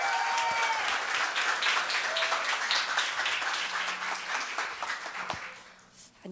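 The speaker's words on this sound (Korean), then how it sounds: "여러분 큰 박수로 맞이해 주시겠습니까?" Applause from a congregation at a Sunday church service, a dense burst of many hands clapping with distinct individual claps standing out, gradually thinning and fading toward the end.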